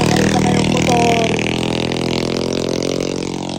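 A motorcycle engine on a mountain running trail, loud and close, revving with a steady droning tone that eases slightly as it moves along.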